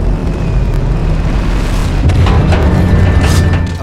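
Rocket impact explosion in Tales from the Borderlands, a loud, deep, sustained rumbling boom that rolls on heavily throughout with a low roaring tail.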